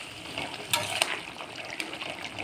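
Fish curry bubbling in a pan with ground garam masala stirred in, a steady soft sizzle broken by a few scraping strokes of a spoon against the pan.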